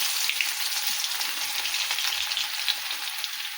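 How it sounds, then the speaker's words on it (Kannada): Cumin, mustard seeds and garlic sizzling in hot oil: a dense, steady crackle with tiny pops, close and continuous, no voice over it. "ಜೀರಿಗೆ ಹಾಕೋತೀನಿ ರೀ, ಸಾಸಿವೆ ಹಾಕೋತೀನಿ ರೀ, ಬೆಳ್ಳುಳ್ಳಿ ಹಾಕ್ತೀನಿ ರೀ"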